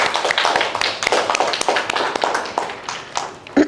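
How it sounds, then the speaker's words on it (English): A small audience claps after a slide presentation about social media and well-being, a scattered, close round of hand claps with some voices mixed in throughout. "so clap it up for yourselves."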